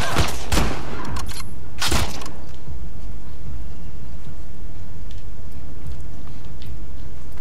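Gunfire from a firearm in The Last of Us Part 2, a few loud, close shots in the first two seconds with a short echo, then fading into low ambient rumble.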